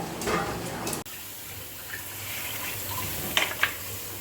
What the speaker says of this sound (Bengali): আগে এটাকে একদম পরিষ্কার করে ধুয়ে তারপরে আমার বোন ম্যারিনেট করবে